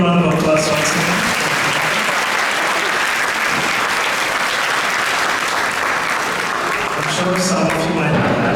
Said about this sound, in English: Can we give a big round of applause once again?